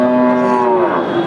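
A deshi (desi) dairy cow at a cattle market lets out one loud, sustained moo close by, with no talk over it.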